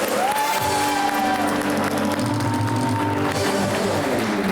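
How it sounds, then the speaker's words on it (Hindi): Studio audience applauding on a television entertainment show, a steady dense wash of clapping that holds at an even level for several seconds, with faint musical tones underneath. "तो एक दफ़ा फिर आप लोग अपने लिए खुद ही तालियां बजाइए।"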